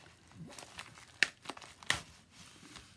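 Envelope being opened, with two sharp paper crinkles standing out among quieter rustling and handling, close and fairly soft.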